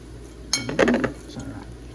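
Utensils clinking against a bowl while stirring sweet potato leaves with fish bagoong, a brief cluster of close metallic taps and scrapes lasting under a second.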